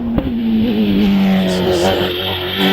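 Empire Evo 3 hillclimb race car with a 1.6 Hayabusa engine, its loud, high-pitched engine note rising and falling as the car climbs the course, heard close with no talk.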